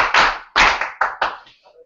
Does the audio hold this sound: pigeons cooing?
no